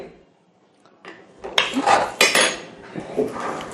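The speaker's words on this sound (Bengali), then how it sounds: "তো আমাদের যদি একটু বিটরুট পাউডার ঢেলে দেখাই" Beetroot powder is poured out in a kitchen, with rattling clinks and scrapes of a container and utensils after a quiet start, close and fairly loud.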